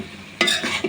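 Mixed vegetables frying in ghee for a Bengali vegetarian bhaji, stirred in the pan: a soft sizzle, then a sharp spoon scrape across the vegetables followed by a second, lighter stroke.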